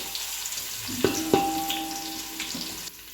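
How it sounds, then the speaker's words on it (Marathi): Crushed garlic tossed into hot oil in a pot sizzles and crackles steadily, with a few light clinks and stirring sounds close by. "तेल गरम झाले बघा, आता हे लसूण चिचून घेतलंय मी, हे टाकते।"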